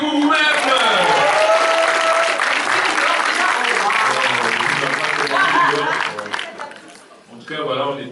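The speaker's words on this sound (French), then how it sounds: "applaudissez-vous vous-même!" Cinema audience at a special film screening breaks into applause mixed with cheers, chatter and laughter, loud and close, with voices rising over the clapping before it thins out and briefly swells again near the end.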